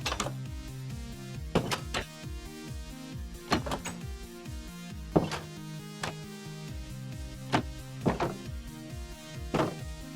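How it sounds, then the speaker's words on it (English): Minecraft 1.9 iron and wooden doors, trapdoors and fence gates opening and closing in a video game: a run of sharp clunks and creaks, about one to two seconds apart, heard alone over steady background music. "Iron trapdoors, iron doors, wooden doors and fence gates have new sounds."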